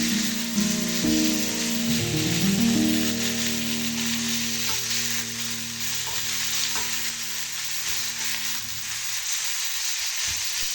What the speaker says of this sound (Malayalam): അങ്ങനെ നമ്മൾ തക്കാളി, പച്ചമുളക്, സവാള ഇതൊക്കെ നന്നായി ഒന്ന് വഴന്ന് വരട്ടോ.